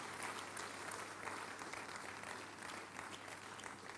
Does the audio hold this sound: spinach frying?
no